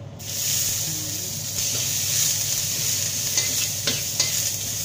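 Shallots sizzle and fry steadily in a hot pan for pineapple fried rice, a continuous close hiss with a few soft stirring scrapes and knocks toward the end.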